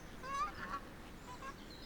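Geese honking beside a lake on a small Norwegian farm, a few faint, distant calls rising over a soft steady background hush.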